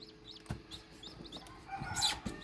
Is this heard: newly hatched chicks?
yes